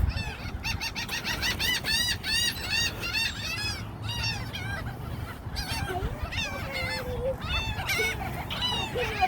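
Geese and other fowl at a New Orleans bird park squabble and honk close by, a dense, continuous chorus of overlapping, nasal calls with no pause.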